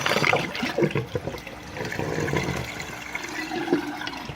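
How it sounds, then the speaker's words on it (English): Bell siphon in an aquaponics grow bed draining water back out with a gurgling, sucking rush that swells and fades over a few seconds, close and alone. "As soon as it hits that top, creates that suction, pulls all the water back out."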